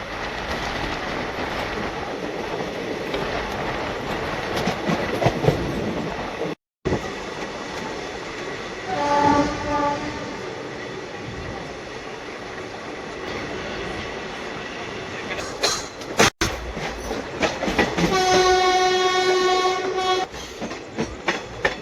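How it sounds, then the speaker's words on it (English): Mumbai CSMT–Hosapete SF Express pulling into Kalyan station: steady loud rumble and clatter of passenger coaches, with brief harmonic horn blasts around the middle and a longer sustained horn near the end. "Now we are arriving Kalyan."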